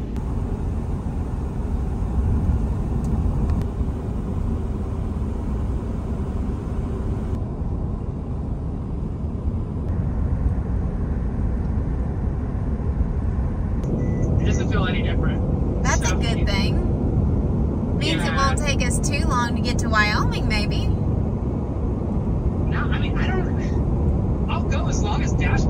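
Constant low road rumble and engine drone from a camper van driving on a highway, steady and loud from start to finish, with voices talking over it and a few short clicking sounds toward the end.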